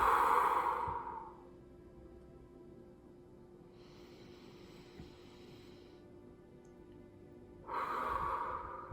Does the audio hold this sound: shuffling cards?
no